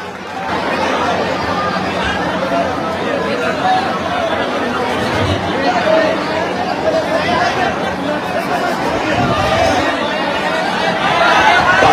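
Dense crowd chatter around a meeting hall at a gathering tied to a ten-day hunger strike, many voices blending into a continuous babble, close and steady, growing slightly louder toward the end.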